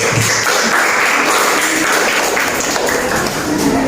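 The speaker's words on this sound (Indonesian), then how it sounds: "Tepuk tangan dulu untuk Andi." A classroom of students claps for a classmate, a dense, steady burst of applause that stays loud and close for its whole length, with no voices standing out.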